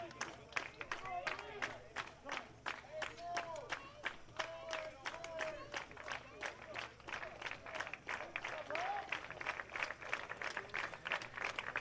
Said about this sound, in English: Patriots fans still clapping